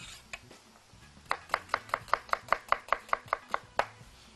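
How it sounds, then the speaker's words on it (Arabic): A knife chops an onion on a cutting board for rice, about a dozen crisp, evenly spaced strokes in quick rhythm. The chopping is close and clear, preceded by a couple of isolated taps. "اول حاجه في الرز اجيب عندي بصلايه افرمها"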